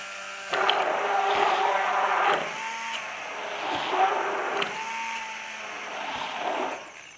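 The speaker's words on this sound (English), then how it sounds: "Then you go with your immersion blender" A close, steady motor whir of an immersion blender running continuously, with slight changes in pitch and load as it works through thick mayonnaise.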